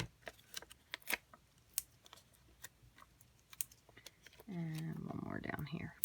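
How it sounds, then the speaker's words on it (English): Paper snips trim small paper pieces for a handmade card, giving sharp, irregular close-up clicks and snips spaced apart. A voice then starts talking over the last second or so. "I have my paper snips hiding. So I'm going to just trim a couple of these up."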